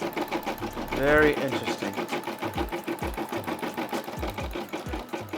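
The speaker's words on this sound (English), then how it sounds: "As you can see, it's stitching out the tail first." A Brother SE600 embroidery machine stitches a Puma logo with a fast, steady mechanical chatter and regular low thumps, close and continuous, while a person speaks briefly over it.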